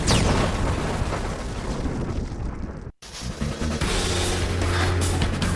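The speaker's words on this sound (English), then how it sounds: "And then I bring you the future of firepower, the electromagnetic gun." An electromagnetic gun firing, a loud broadband blast with a rushing roar that cuts off abruptly, then a second powerful burst that rings on with a low sustained hum.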